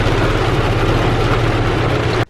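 A 2004 Honda Rancher TRX 400 four-wheeler engine runs close and loud with a steady low idling rumble, then cuts off abruptly at the end, with no voices over it.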